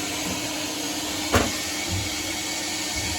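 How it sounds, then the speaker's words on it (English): Shop vacuum cleaning soot out of a carbonized steam boiler after a flame roll-out, a steady loud broadband hiss running throughout with a brief sharper burst midway. "Let's vacuum this out."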